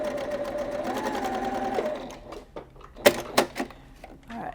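A sewing machine stitches quilt pieces with a steady whirring hum for about two seconds, then stops. A few sharp clacks follow at close range.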